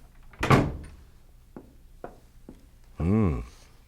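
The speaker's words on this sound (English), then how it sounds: "come in and close the door" A door closes in a radio drama office scene, a sharp thump near the start followed by a few soft footsteps and a muffled later bump.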